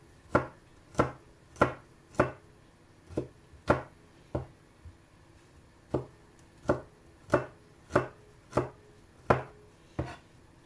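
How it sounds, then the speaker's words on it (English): A knife chops garlic finely on a cutting board, about twenty sharp, evenly spaced strikes with short pauses, close up and with no one speaking. "So I will be chopping my garlic really small."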